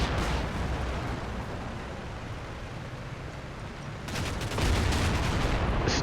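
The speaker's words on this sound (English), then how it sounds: "Give you an idea of what the 105 artillery is doing" Rumbling, continuous barrage of 105 artillery fire in the Combat Mission wargame, heavy low booms blurring together throughout, with a louder, harsher burst of impacts near the end.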